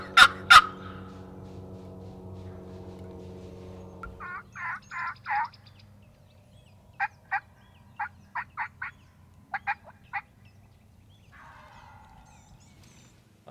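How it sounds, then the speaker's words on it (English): A wild turkey gobbler gobbles in the Ozark woods: short bursts of rapid gobbling at mid distance, several repeated calls spaced across the stretch, over a quiet woodland background after an initial low rumble. "After a little while of listening to this gobbler"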